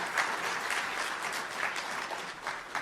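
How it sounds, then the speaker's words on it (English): Audience at an advocacy conference keynote applauding steadily, a fairly faint, even patter of clapping hands heard from a distance. "I think you should give yourself a round of applause"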